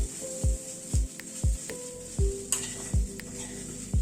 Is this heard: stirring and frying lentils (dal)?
yes